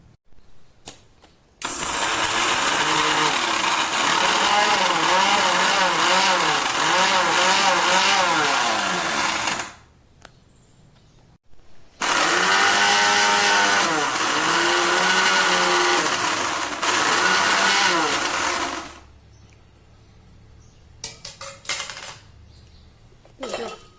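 A mixer grinder whirs through green tamarind chutney with red chili powder and salt in two loud, steady bursts of roughly eight seconds each, with a short pause between them.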